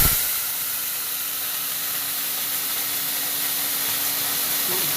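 Spices sizzle in hot oil in a pan after fried eggs, a steady bright hiss that runs unbroken, close and fairly loud with no talking.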